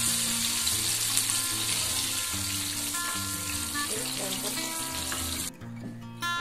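Chicken pieces for crispy curly fried chicken sizzle in hot oil, a dense continuous crackling fry that stays loud and even, briefly dipping near the end, with no speech.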